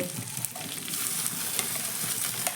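Boiled mashed potato tipped into a pan of ginger tempering in hot oil, giving a steady close sizzle with soft scraping and a few light clicks of stirring throughout, no one talking.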